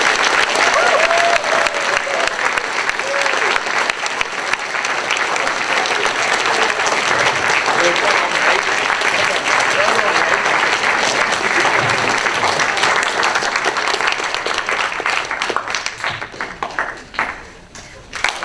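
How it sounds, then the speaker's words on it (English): Audience applause for the musicians closing a community musician panel, a dense, steady wash of clapping lasting nearly the whole stretch before thinning out at the end, with some voices and cheers mixed in. "can I get a round of applause for our musicians?"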